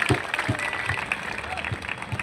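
Audience applause at a customer award ceremony in Azadpur Mandi, a wholesale market: a crowd claps with a loose, steady rhythm of distinct claps over a busy background, with voices mixed in.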